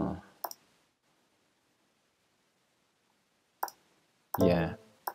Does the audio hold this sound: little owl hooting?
no